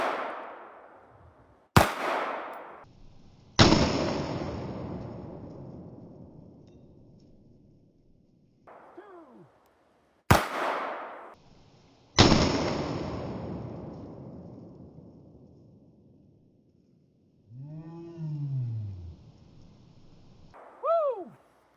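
Four sharp .22 WMR shots from a Walther WMP pistol crack out one at a time on an outdoor range, each trailing a long fading ring, with a few soft thuds and chirps between them.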